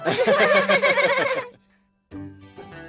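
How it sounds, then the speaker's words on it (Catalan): Horse at farm stables giving a loud, close whinny that trembles and fades out over about a second and a half, then after a short silence a lower sustained tonal sound follows. "Mireu, això d'aquí són els estables. Que bé, ara veurem els cavalls."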